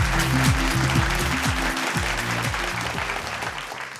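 Doctors take the stage at a health excellence awards event in Bangalore to a sustained round of audience clapping, many hands at once, layered over thumping stage music that gradually eases off.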